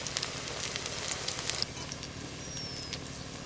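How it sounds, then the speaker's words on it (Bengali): Pumpkin leaf fritters sizzle in hot mustard oil, a steady crackling fry with scattered spits and pops, close and fairly quiet, with no talk. "কুমড়ো পাতার বড়াগুলো সব ভালো করে ভাজা হয়ে গেল।"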